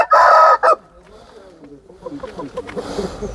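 A heavy five-kilogram rooster lets out a loud, close crow in two bursts, followed by quieter clucking and someone speaking in the background.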